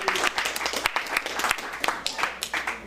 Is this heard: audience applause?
yes